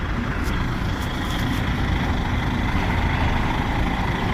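A heavy DAF diesel truck engine idling nearby, a steady low rumble that holds constant throughout with no talking.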